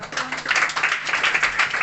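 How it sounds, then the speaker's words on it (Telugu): An audience at a church youth meeting claps together in a brief burst of close, steady applause, with no talking over it. "అందరు చప్పట్లు కొడదాం"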